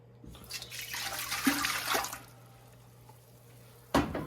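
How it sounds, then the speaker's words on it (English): White vinegar, a full quart, poured into a pan while making hot pepper mustard gives a splashing liquid rush for about two seconds, then quiet room tone and a short sharp knock near the end. "We're going to put 1 quart, 32 ounces of white vinegar in."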